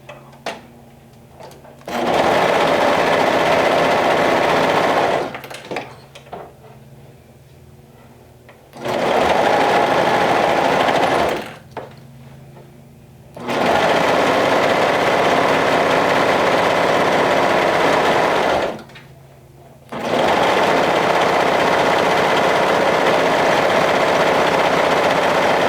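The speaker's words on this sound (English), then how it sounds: "we're going to be sewing this side seam like so, with a 1/4 of an inch seam allowance" Domestic sewing machine stitching the side seam of a knit T-shirt, running in four long steady bursts of several seconds each, separated by short pauses with faint handling noise.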